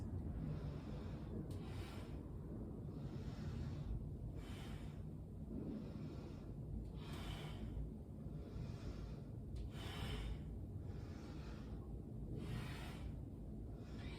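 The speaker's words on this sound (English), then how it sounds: "Yes, you hear me breathing deeply." Deep, rhythmic breaths during an upper body push and pull workout, each slow inhale and exhale repeating roughly every one to two seconds, close and faint over a steady background hum.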